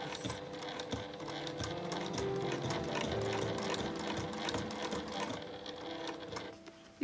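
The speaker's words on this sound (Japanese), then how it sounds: "目打ちとかで押さえながらゆっくりと" An industrial sewing machine stitches a bag opening through thick layered fabric, running with a continuous close mechanical whir and rapid needle chatter that stops briefly near the end.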